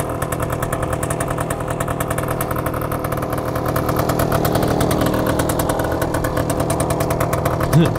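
A 1966 Suzuki K15 motorcycle engine runs steadily while riding, with a loud, buzzing rapid firing rhythm that swells slightly mid-ride; wind noise and a rider's voice are faintly mixed underneath.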